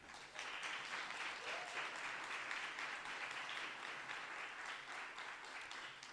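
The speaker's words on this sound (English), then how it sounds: "Can we have a round of applause, please?" Sustained audience applause fills a symposium hall on Black women in Britain, a steady dense wash of clapping from many hands that rises quickly and holds evenly, with no speech over it.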